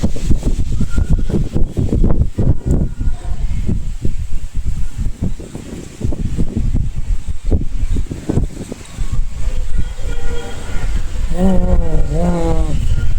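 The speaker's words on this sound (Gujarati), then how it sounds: "તમને સંભળાતો છે પવનનો અવાજ" Strong storm wind buffets the microphone in a Gujarati village, a loud continuous roaring rumble with gusty surges, and near the end a few faint wavering tones rise above it.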